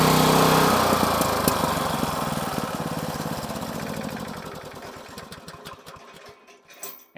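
A small engine driving an impact mill rock crusher for gold ore is cut off, its loud running roar slowing into a rattling, chugging wind-down that fades over several seconds to near silence.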